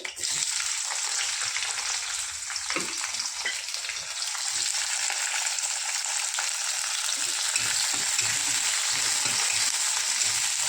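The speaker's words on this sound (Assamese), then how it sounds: "কাটি থোৱা কেঁচা পিঁয়াজখিনি দি দিলোঁ।" Chopped raw onions fry in hot oil with dried chillies, cloves and cardamom, giving a loud, continuous sizzle with scattered scraping stirs, close up and without speech.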